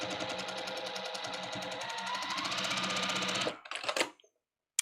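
A sewing machine stitches a quilt block in a fast, even mechanical run for about three and a half seconds, then stops with a few brief clicks and handling sounds, close and moderately quiet.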